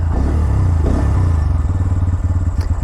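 A 2024 Bajaj Pulsar N125 motorcycle idles and pulls away at dusk to begin a test ride, its close, loud engine thrumming steadily with a brief rev and some rattling clatter.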